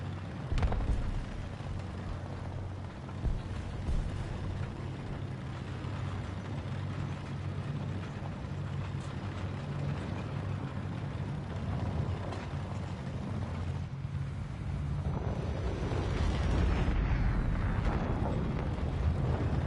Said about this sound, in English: He is trying to drop a lot of bombs on me.